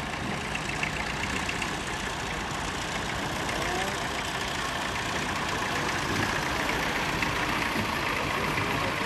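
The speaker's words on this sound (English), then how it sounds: "A Burrell steam engine." An 1898 Burrell steam traction engine runs at an outdoor vintage rally, giving a steady, dense rumble and chuff that continues without pause at close range.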